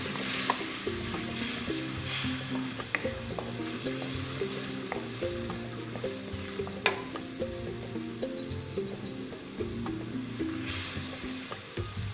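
Vegetables stir-fried in a hot pan for spicy Thai tilapia, sizzling steadily with scraping spatula strokes and clinks throughout, close and continuous with no talk.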